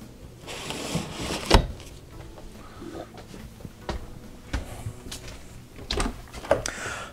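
A floor storage drawer in a 2014 Heartland Bighorn 3610RE fifth-wheel RV slides open and shut with several nearby thumps and knocks, and no one talks.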